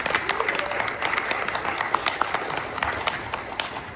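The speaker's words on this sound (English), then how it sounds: "Give him a round of applause." A VidCon crowd gives a speaker a round of applause, dense, lively clapping from a large audience sustained throughout at steady volume.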